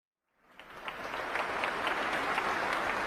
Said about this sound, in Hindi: राष्ट्रपति भवन का ऐतिहासिक दरबार हॉल तुलसी गौड़ा के सम्मान में तालियों की आवाज से गूंज रहा है